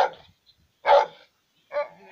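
A dog barks three times outdoors, short loud barks separated by brief silences, with no talking during the barks.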